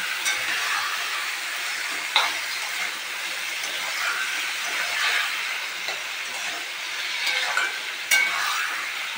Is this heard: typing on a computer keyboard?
no